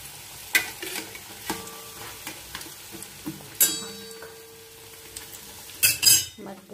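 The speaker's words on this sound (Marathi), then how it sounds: "मध्यम आचेवर हे करायचं, तळायचा." Samosas frying in a pan over medium heat, a soft sizzle broken by clinks of a utensil stirring and tapping the pan at irregular intervals, close and fairly quiet.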